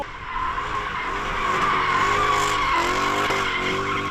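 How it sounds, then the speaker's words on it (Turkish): Professional drift car skidding with loud, sustained tire squeal and a revving engine, continuous and close for the whole stretch, with rising and falling pitch. "Profesyonel drift nasıl yapılıyor? Profesyonel drift böyle yapılıyor."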